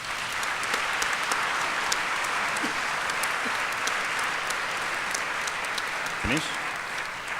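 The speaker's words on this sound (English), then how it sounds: "you deserve a big round of applause from this conference" Applause from an audience at the World Scout Conference, a broad steady wash of clapping that fills the whole stretch, with a voice speaking briefly near the end.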